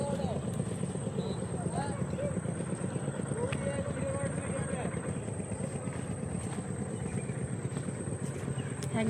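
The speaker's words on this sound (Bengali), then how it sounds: "একটা নৌকা যাচ্ছে" A boat passes on a river in the Sundarbans, seen from a bridge, its engine giving a steady, low, throbbing drone that continues throughout at moderate distance, with voices faintly present.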